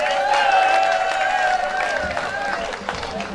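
At a school excellence awards ceremony in Bertoua, a crowd applauds the event's sponsor. The clapping is loud and sustained, and a prominent voice carries over it.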